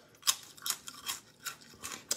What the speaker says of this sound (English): It's a crunchy fucking potato chip.